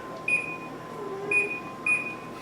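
Oven timer beeping three times at steady intervals, short bright electronic tones over a quiet kitchen background with a faint steady hum.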